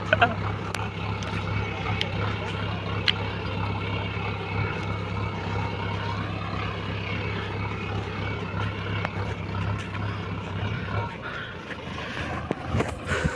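A tractor engine runs steadily with a low droning hum and rattle, cutting out near the end.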